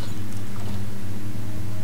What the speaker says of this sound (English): You can hear like faint moaning in the sound.